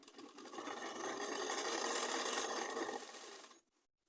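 Sewing machine running steadily, stitching down both sides of fabric cut from an old nightie, with a dense rapid mechanical whir close by for about three and a half seconds before stopping.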